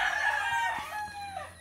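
A rooster crows loudly nearby in one long, drawn-out call that falls off at the end, with faint clucks and a few soft knocks underneath.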